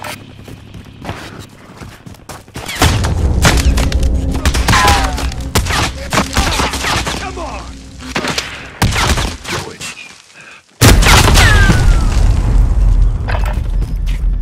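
Heavy gunfire and explosions in Call of Duty: Modern Warfare, with loud, dense bursts of shots and booming blasts running almost throughout, dipping briefly before another loud volley.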